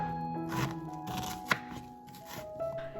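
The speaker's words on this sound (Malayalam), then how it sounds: "ആദ്യമേ 2 വലിയ സവോള ഒരു മീഡിയം സൈസിൽ അരിഞ്ഞെടുക്കാം" Two large onions being chopped into medium pieces with a knife, a quick run of close, soft knife strikes on a board with one sharper knock midway.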